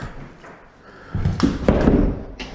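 A split jamb interior door, just hung and set tight to the wall, gives a couple of soft thuds as it slaps against the wall, with a brief tap near the end.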